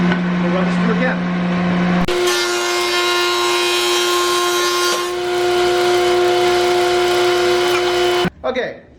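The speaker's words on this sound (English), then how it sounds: "We've planed down using the planer to the final thickness." A wood planer runs lumber down to thickness, a loud steady machine hum that shifts pitch as stock feeds through, holding for several seconds before cutting off abruptly near the end.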